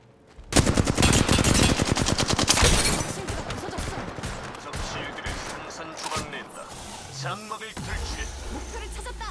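Gunfire in an Apex Legends firefight: a loud, rapid automatic burst for the first few seconds, then scattered shots and mechanical clicks as it tapers off.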